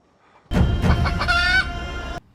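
Chickens cluck in a short, close burst of harsh calls that lasts under two seconds, with near silence before and after.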